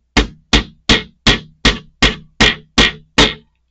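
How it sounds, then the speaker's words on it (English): A hammer strikes nine times at a steady pace during assembly of a Tamiya Mini 4WD Lunchbox monster truck model, each blow loud, sharp and close with no talking. "I'm using a hammer, so heads up."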